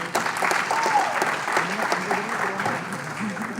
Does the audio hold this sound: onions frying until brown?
no